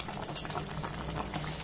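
Sweet-sour-spicy raw mango pickle simmers in a pot, a quiet soft bubbling with faint stirring and light clinks of a utensil.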